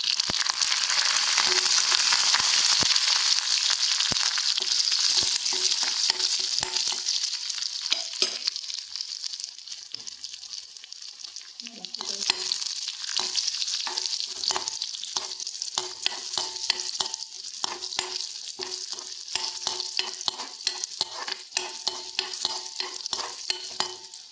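Steady hiss of onion, curry leaves and chillies frying in hot oil with frequent clinks and scrapes of a spoon stirring the pan, close and loud throughout.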